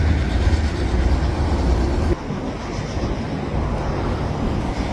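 A SkyTrain rumbling past near the New Westminster downtown bus loop, a loud continuous low roar with a sudden drop in intensity partway through as the cars go by.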